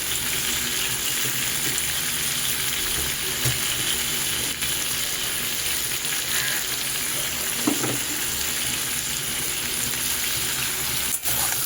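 Chopped onions dropped into hot oil in a pan already holding browned potatoes, giving a steady, even sizzle and crackle throughout, close and continuous, with a few faint clinks.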